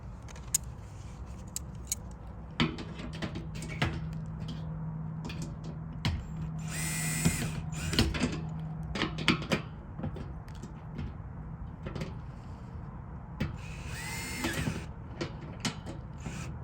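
A power drill runs in several bursts as it tightens bolts on a galvanized steel raised garden bed, 12 by 4 feet and 1.5 feet high, with metallic clinks and handling noise between the whirring runs.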